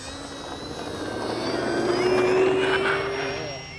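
A large 2000mm HSDJETS-182 radio-controlled model airplane's high, whining engine drones overhead on its maiden flight, its pitch sliding as it passes, steady and fairly loud against outdoor background noise.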